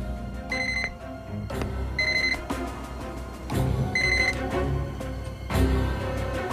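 A telephone rings in repeated bursts, a bright trilling bell pattern recurring every couple of seconds over a busy background of music and room sound, no speech.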